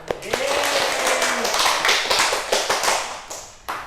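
Schoolchildren in a classroom clap together in a quick, uneven patter of close hand claps that builds into a steadier rhythm. A teacher's voice is briefly audible at the start.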